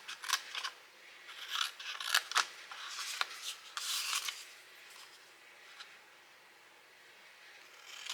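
Scissors cut through paper while making a scalloped poinsettia gift box, with a handful of close, crisp snips and rubbing strokes in the first half that fade into near quiet.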